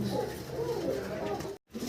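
Lahori pigeons at a pigeon farm coo in a low, continuous, throaty murmur, close and steady, briefly cut off near the end.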